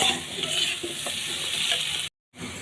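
Taro curry with hilsa fish being sautéed in a pan, a loud continuous sizzle with stirring scrapes, cut by a brief silence near the end before the sizzle returns.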